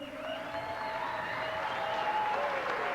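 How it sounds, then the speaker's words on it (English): Steady applause from a fight-night crowd after a Kit Cope vs. Clint Hale kickboxing bout, dense and sustained for the whole stretch, with faint crowd murmur and tonal whistles riding over it. "let's give a big round of applause for all the fighters this evening"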